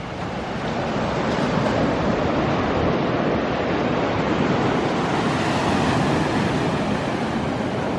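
Ocean surf washing in at the water's edge on an eroding stretch of North Topsail Island beach, a steady, loud, close roar of breaking waves with wind buffeting the microphone throughout, no talking.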